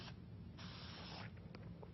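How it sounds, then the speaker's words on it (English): Spray paint hisses from an aerosol can onto a tin can lantern in one long burst, with a few short puffs after it, close up over a low steady hum. "Now we're going to spray paint our lantern."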